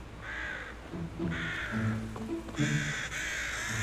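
Crows caw repeatedly in the video game Arena Breakout, in three harsh bursts of several calls each. They sound moderately distant and stand alone, with no talk.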